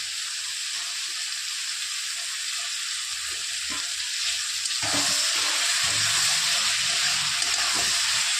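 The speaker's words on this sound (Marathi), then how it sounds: "आता टाकतो दोन स्वच्छ धुवून घेतले मी पीठ लावून तर हे पण तेलच परतून घ्यायचं आपल्याला" Flour-coated Bombay duck fish frying in oil, a dense continuous sizzle that swells louder midway, with faint clinks underneath and no talk.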